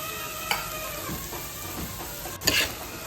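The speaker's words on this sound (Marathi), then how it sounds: "आता कांदा टोमॅटो मस्तपैकी तेलावर आपण शिजवून घेऊ" Onion and tomato cook in hot oil, with a continuous sizzle and a couple of louder scraping stirs close to the pan.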